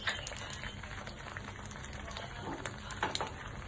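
Egg omelette frying in a pan, a quiet steady sizzle with soft crackles and occasional small pops and utensil clicks, heard alone without talk.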